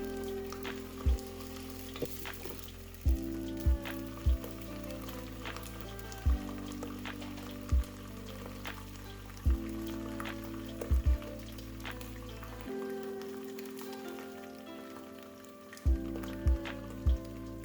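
Chana dal chicken sautés in a pan, a steady faint sizzle and crackle of frying, broken by periodic clacking of a spoon against the pan as it is stirred, with soft background music and no talking.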